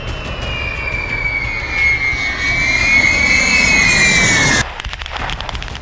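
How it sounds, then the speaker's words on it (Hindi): Loud, steady jet roar of a nuclear-capable military aircraft passing overhead, with a sweeping whine that shifts as it goes by, then cutting off abruptly near the end. "परमाणु बम गिराने और आसमान से ही मिसाइलें दागने की क्षमता रखने वाला यह विमान"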